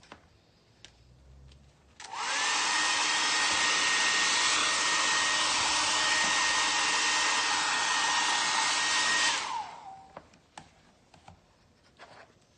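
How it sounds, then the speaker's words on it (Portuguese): Hair dryer blowing dust off an MDF craft piece switches on with a loud, steady whirring roar, runs for about seven seconds at close range, then shuts off, framed by faint tapping handling sounds. "Parece secador só pra tirar esse pozinho."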